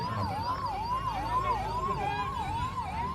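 Ambulance siren pushing through a crowd at a farmers' union protest, a steady rhythmic wail rising and falling about every half second, loud and close over dense crowd noise.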